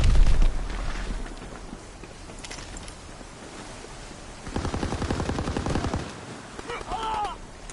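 Rapid automatic gunfire in a Call of Duty team deathmatch, steady bursts of clipped shots that grow louder and denser midway, with battle noise and brief in-game voices around them.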